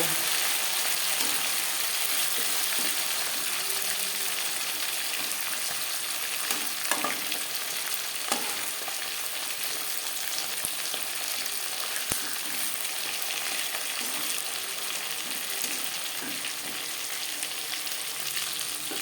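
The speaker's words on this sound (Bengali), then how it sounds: "মাছ ভাজা হয়ে গেছে" Pangas fish pieces fry in a pan of hot oil, a steady, close, unbroken sizzle lasting throughout with occasional faint pops and utensil taps.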